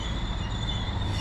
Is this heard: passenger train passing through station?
yes